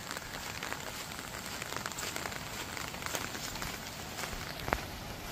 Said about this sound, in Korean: 빗소리도 들리고 아주 좋습니다.